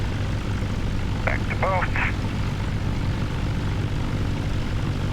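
A Cessna 172R piston engine during a run-up in the MSFS 2024 flight simulator, a steady propeller drone throughout at constant level, with a pilot speaking briefly over it.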